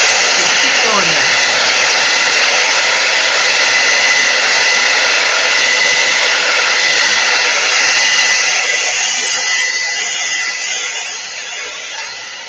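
A hair dryer blows to dry wet paint on a glass-jar water painting, a loud, steady, close whoosh that holds for about ten seconds before easing down slightly near the end.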